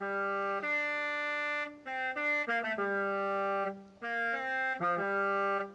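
A bright, electronic Horizon Mexico themed car horn from Forza Horizon 5 plays a short multi-note melody in two phrases, loud and close with no talking.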